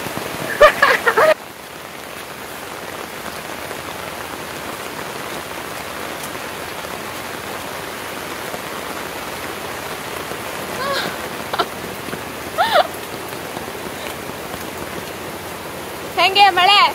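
Heavy rain pouring down in a village, a loud steady hiss of drops drumming on surfaces throughout, with brief voices and clatter at the start and a few short voices near the end.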